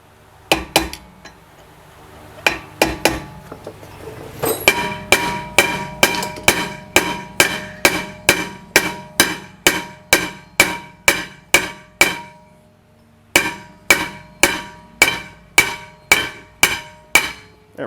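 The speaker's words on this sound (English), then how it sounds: "Sometimes just tapping this here loosens it up." A hammer tapping a corroded rear brake rotor on a 2014 Toyota Highlander, with about two dozen sharp ringing metallic strikes at a steady rhythm, close and loud, plus a few scattered taps at the start and a short pause near the end.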